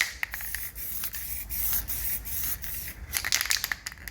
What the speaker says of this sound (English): just grab whatever rattle can you can find and just literally go like that.